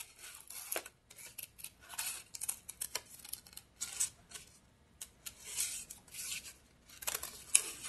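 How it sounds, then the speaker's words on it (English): Scissors snip paper for a tunnel book in a run of close, crisp cuts, the blades rasping and clicking in an uneven rhythm with short pauses between strokes. "So you guys can see how I'm cutting."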